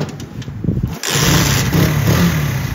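A 2024-model motorcycle fitted with an ISH body coil, checked for a misfiring problem, fires up after a brief crank and settles into a loud, steady idle close by.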